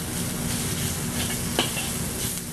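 Beef and snow peas sizzle in a stir fry pan, a steady loud crackle with a couple of sharp clinks from stirring, no speech over it.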